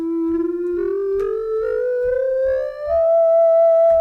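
A single melodic line in Phrygian mode rises gradually over a few seconds, with soft low plucked notes pulsing underneath, ending on a held tone.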